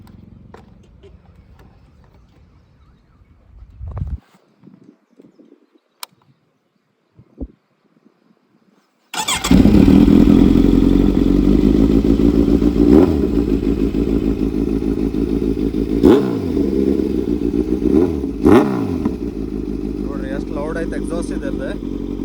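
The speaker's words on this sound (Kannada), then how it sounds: "ಲಾಸ್ಟ್ ಇದ್ರದ್ದೊಂದು ಕೋಲ್ಡ್ ಸ್ಟಾರ್ಟ್ ಕೇಳ್ಬಿಡೋಣ ನೋಡ್ರಿ" A Kawasaki Z900 naked motorcycle starts from cold with a loud, sudden catch, then settles into a steady, rumbling idle close by with occasional throttle blips. Quiet handling sounds come before the start.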